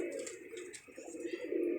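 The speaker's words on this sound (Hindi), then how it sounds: "ये चिक्कू पे बैठे हुए हैं कबूतर" Pigeons perched in a chikoo tree coo softly in repeated low, throaty phrases, fairly faint and close, with small chirps mixed in and no talking.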